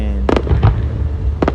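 Fireworks bursting at an America 250 celebration, two sharp loud cracks close together followed by a softer pop, then another crackling pair a second later, heard up close.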